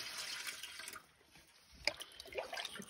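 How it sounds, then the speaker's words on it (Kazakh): Cold water poured from a bucket into a pot, a soft steady splashing stream that thins midway and then resumes with a few sharper splashes, quiet and close. "суық құямыз енді."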